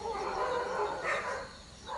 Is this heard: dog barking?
yes